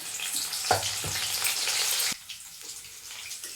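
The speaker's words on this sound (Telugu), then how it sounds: "ఇలా ఆయిల్ ఫ్రై చేసుకోవాలి." Crispy corn kernels frying in hot oil, a steady bright sizzle with a few sharp crackles and pops, close up, which drops abruptly to a quieter bubbling halfway through.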